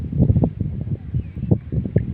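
Strong wind buffets an outdoor spot by the water where a vendor works, gusting in uneven low rumbling bursts with some rustle, fairly close and loud.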